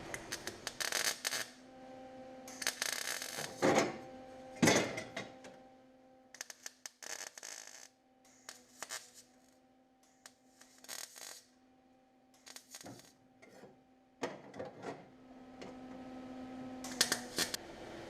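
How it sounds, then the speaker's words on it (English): A MIG welder tacks an Audi Sport Quattro replica transmission tunnel, producing several short, loud crackling bursts separated by quiet pauses and faint handling noises. "Let me grab the welder. I'm going to tack that in,"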